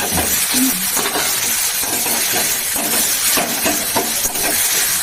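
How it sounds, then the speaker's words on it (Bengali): Chopped tomatoes frying in a pan with onion and green chilli for a Chinese-style dish, a steady close sizzle with stirring scrapes and clinks throughout and no talking. "ভাজা গেছে টমেটোগুলো দিয়ে দিচ্ছি"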